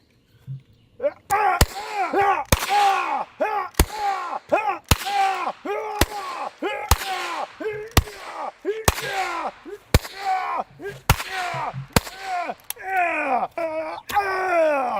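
A knife gun stabs and shoots a zombie in a video game: sharp, loud hits and shots land roughly every second, with drawn-out zombie groans between them.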